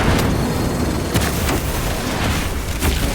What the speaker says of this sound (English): Crack grenade!